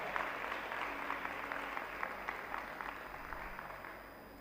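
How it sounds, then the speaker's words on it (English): Audience applause in a hall, continuous clapping from many hands at moderate distance, steady throughout and fading slightly near the end. "Please, can you give him a round of applause?"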